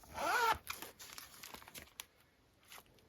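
A zipper on the inside compartment of an A5 planner is pulled open in one quick rasping burst near the start, followed by faint crinkling and handling of the planner's pages.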